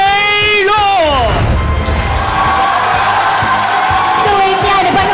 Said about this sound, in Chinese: 掌声有请歌从黄河来主持人马俊雷洛